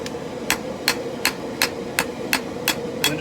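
Hammer striking a puukko knife blade on the face of an anvil to straighten a bend during forging, nine sharp ringing blows at a steady rhythm of roughly two per second, close and clear.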